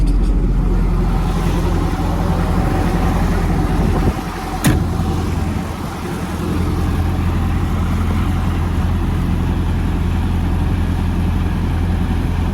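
A Sampo 690 combine harvester engine runs loudly and steadily throughout, a deep continuous rumble with a brief dip in level partway through.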